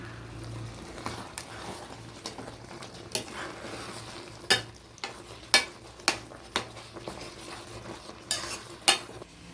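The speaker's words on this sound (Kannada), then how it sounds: "ಇವಾಗ ಮಿಕ್ಸ್ ಮಾಡೋಣ." A spoon stirs and scrapes through cooked Bisibele Bath rice and vegetables in a pot, with repeated sharp clinks and scrapes in an uneven rhythm over a low background hum, close and fairly loud, no talking.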